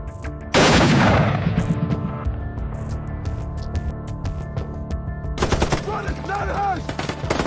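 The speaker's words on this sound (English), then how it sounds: "The Germans had them boxed in, continually spraying machine gun fire." German machine guns open fire in a war drama battle scene, a loud sudden burst followed by sustained rattling gunfire, with later shots crackling over a rumbling background.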